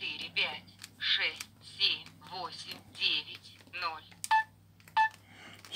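Button beeps from a retro Samsung X481 mobile phone keypad sound as a few short, clear tones near the end, set among someone speaking in Russian close to the phone.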